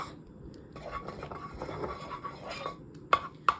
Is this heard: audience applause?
no